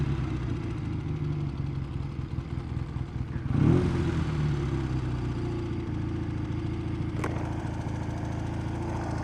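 Matchless G12 motorcycle engine running steadily nearby, then revved once in a short loud burst before settling back to a throbbing idle.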